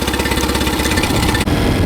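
A Mercury outboard engine with a bad fuel pump runs steadily on choke, a loud, continuous, even throb with a brief dip near the end and no voices.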